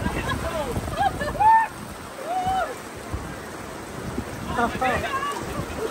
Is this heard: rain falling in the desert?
yes